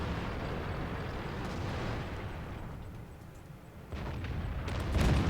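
A World of Tanks tank gun fires a high-explosive anti-tank shell, a heavy booming report with a rumbling tail over steady engine noise, followed by another blast near the end.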